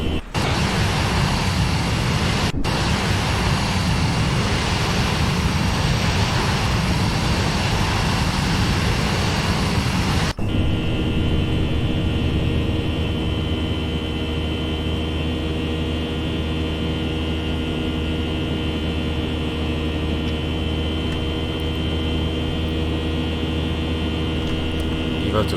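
A319 jet engines at takeoff power in the Prepar3D flight simulator, a loud roaring broadband rush that cuts at about ten seconds to a steadier tonal engine drone through the climb, with a pilot voice calling out over it.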